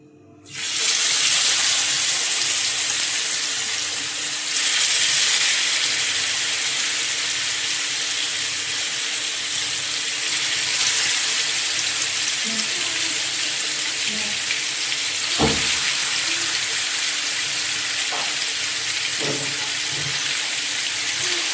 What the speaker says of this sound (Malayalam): നമുക്കിനി ഇത് വറക്കാനിടാവേ.